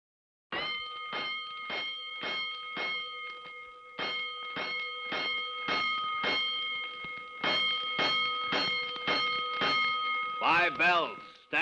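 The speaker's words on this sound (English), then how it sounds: "Five bells. Stand by all stations." A fire station alarm bell in a radio drama strikes in clear, evenly spaced rounds, about fifteen loud metallic rings with short pauses between groups, ending in a brief warbling tone.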